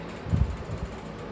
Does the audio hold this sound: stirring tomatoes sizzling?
no